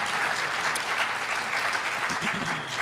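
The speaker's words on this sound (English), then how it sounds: "Quick round of applause." Audience applauding at the Oklahoma City mayoral debate, dense steady clapping from a full room lasting about three seconds at an even level.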